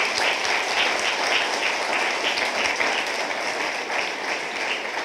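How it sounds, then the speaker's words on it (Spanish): A church congregation breaks into loud, sustained applause, a dense and steady wash of clapping from many hands that carries on without pause and without voices. "¿Cuánto le damos un aplauso al Señor por eso?"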